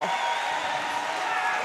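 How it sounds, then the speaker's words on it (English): At a men's roller derby world cup bout in Barcelona, USA versus France, an arena crowd cheers for a skater named Gato, a dense continuous roar of voices and whoops heard at a distance and holding steady throughout. "The crowd is cheering Gato."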